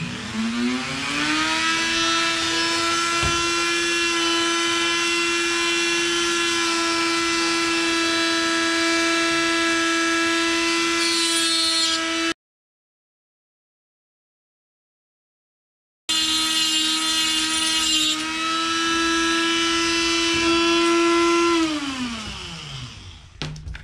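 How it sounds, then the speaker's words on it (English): A power tool whines steadily at high speed while grinding a Ford 4.6/5.4 camshaft sprocket gear key, cutting out abruptly for a few seconds, then resuming before spinning down at the end. "If you're going to be doing any kind of grinding with power tools"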